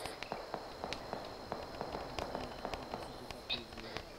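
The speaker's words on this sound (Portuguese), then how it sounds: "Estou a ouvir tiro ao nosso oeste" Distant airsoft gunfire during a milsim game, scattered faint pops and short bursts in irregular rhythm over outdoor ambience, with footsteps and movement nearby.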